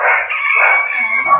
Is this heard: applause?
no